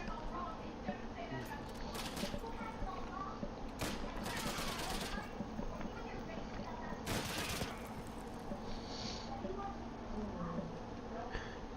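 Distant rapid gunfire bursts crackle in a World War II shooter game, Day of Infamy, several sharp volleys spread irregularly over constant background battle noise while a voice talks.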